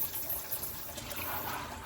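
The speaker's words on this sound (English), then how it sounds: "And we'll just start spraying it off." A garden hose sprays water steadily over the roots of a California pitcher plant being repotted and divided, a continuous close hiss and splatter with no voices.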